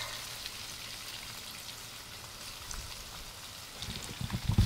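Garlic dropped into a pan of frying onions and sausage, a soft steady sizzle that swells into louder crackling spatters near the end.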